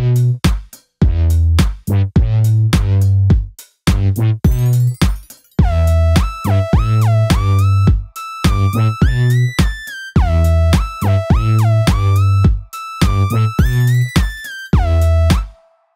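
A West Coast hip hop synth bass made in FL Studio pumps in short punchy notes with a beat. A gliding, whistly lead melody enters partway through, and the loop runs loud and steady with brief gaps.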